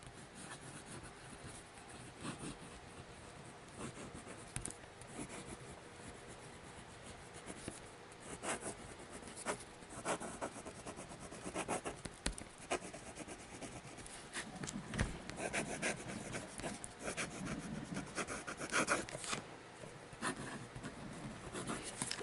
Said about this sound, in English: now I'll do some writing with the Platinum Preppy that I just converted to an eyedropper